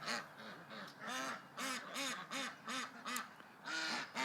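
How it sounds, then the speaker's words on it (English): A flock of ducks quacking in hot weather, a rapid series of nasal quacks in bursts, fairly close and moderately loud with no talking. "I'm walking around, guys, and the ducks are staying in the shade."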